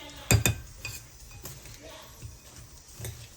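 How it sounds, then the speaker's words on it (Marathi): Bhel being mixed with chaat masala, onion, tomato, salt and thecha in a bowl, giving a couple of sharp utensil clinks at the start, then softer scattered stirring taps, close and quiet. "इथे मी भेळ तयार करतो थोडासा चाट मसाला ॲड करून मस्त मिक्स"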